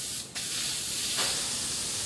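A can of Aluma Hyde spray paint held upside down lets out a steady, loud hiss of propellant that runs nearly continuously, with a short break and a brief surge near the start.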